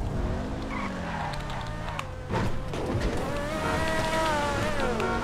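Racing cars from the video game GTA skid and roar through a race, a continuous loud engine and tire noise with a harsh screeching burst around the middle, filling the whole stretch.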